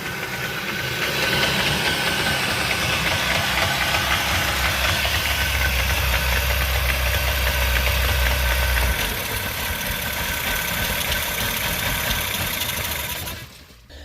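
A bass boat's outboard engine runs steadily at idle with a knocking, uneven rumble, loud and close for about thirteen seconds before cutting off abruptly, with no talk over it.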